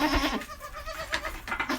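Goats bleat in a barn with several close, wavering cries in quick succession, overlapping one another in a noisy pen.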